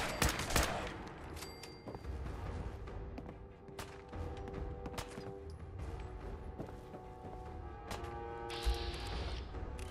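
Bursts of video game gunfire crackle over a rumbling low background, with several sharp volleys and scattered shots spread through the clip at moderate distance.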